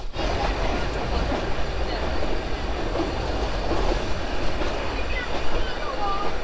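An Ooty toy train runs along the Nilgiri mountain railway, its carriages giving off a steady rumbling clatter with faint wheel squeals, loud and continuous throughout, with tea gardens on the hill slopes alongside.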